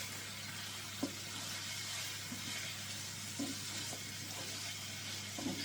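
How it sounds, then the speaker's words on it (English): Bacon frying in a pan for macaroni cheese, a soft, steady sizzle with a few light clinks and stirring taps, faint and close, with no talking. "Now as you can see, this is sizzling away nicely."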